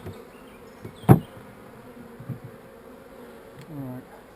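Bees buzz around the frames of a Layens hive, a soft continuous drone broken by a sharp close knock, a few lighter taps, and one bee whining past nearby near the end.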